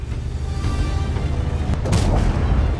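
Artillery fire in a video game booms with a dense, rumbling roar, and a sharper blast erupts near the end over the continuous low battle noise.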